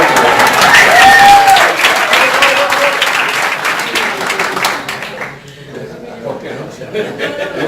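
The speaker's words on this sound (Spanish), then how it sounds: "Un aplauso." Loud applause from a conference audience with scattered cheers and laughter, clapping dense at first and thinning toward the end, with voices talking over it.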